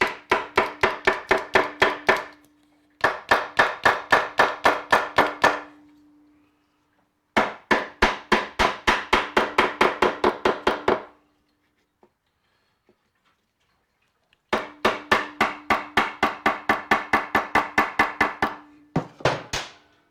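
Rapid, regular tapping on parts of a Yamaha XS11 motorcycle comes in four long runs of quick, evenly spaced knocks separated by short silences, close and crisp.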